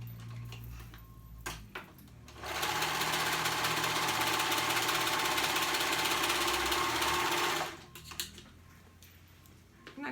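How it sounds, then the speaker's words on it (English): Sewing machine stitching the short edge of a fabric band for a child's dress: a steady, loud continuous whir runs for about five seconds, with quieter handling noises before and after. "fold them at the short edge, right sides together, and sew that short edge together"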